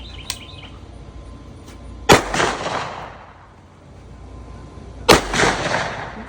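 Two loud gunshots fired outdoors while hunting, spaced about three seconds apart, each a sharp crack followed by a long rolling echo that fades away.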